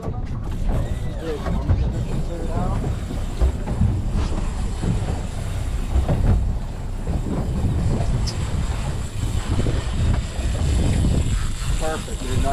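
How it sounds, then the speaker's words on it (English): An offshore fishing boat's engine working near oil rigs as the boat is spun around: a continuous mechanical rumble and churn with wind buffeting the microphone, steady and fairly loud throughout. "I'm going to spin the boat"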